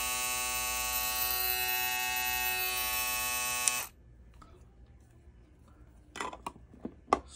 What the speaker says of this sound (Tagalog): Ito naman yung all metal Keme shaver.